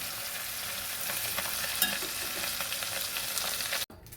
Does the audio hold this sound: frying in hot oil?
yes